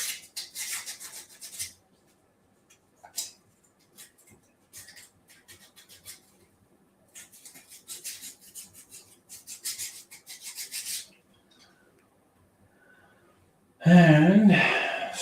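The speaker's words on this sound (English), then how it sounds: "Sand these off as well." Sandpaper rubbing back and forth over small plastic puzzle parts from a ROKR Gearball Scramble kit, in several close raspy bursts separated by pauses, then a louder closing burst with some vocal noise.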